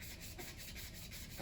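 Sandpaper rubs back and forth on a piece filled with epoxy in quick, even strokes, a close, dry scratching that repeats without pause.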